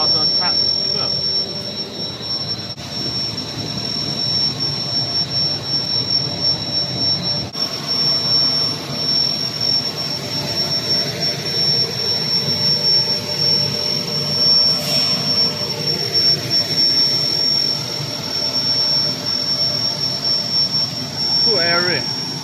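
An EPE foam extruder machine runs in a factory hall with a steady industrial drone and a thin high whine throughout, while voices talk faintly over it.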